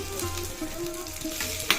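Green chillies crackle and sizzle loudly in hot oil for a Kerala mackerel and green peppercorn curry tempering, a close, bright frying hiss with brief stirring scrapes and a sharp clink near the end.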